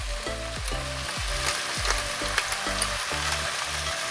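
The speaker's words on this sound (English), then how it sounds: "So we're gonna let the spices toast and cook into the mixture." Chili powder, smoked paprika, cumin and black pepper toast with peppers and soy curls in a pan, sizzling steadily and close, with a low rhythmic clatter beneath.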